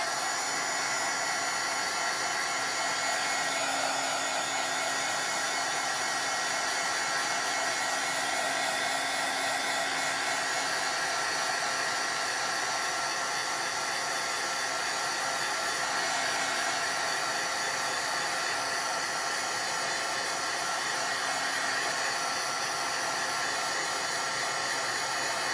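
A heat gun blows over embossing powder in a long, steady, loud hum and rush of air, unbroken for the whole stretch with no voices.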